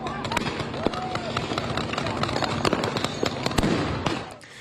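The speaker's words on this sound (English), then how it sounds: "protesters shooting fireworks at officers" Fireworks fired by protesters at officers during a street confrontation: a dense, continuous barrage of sharp cracks and pops, some louder bursts standing out, over a constant rumble of crowd noise.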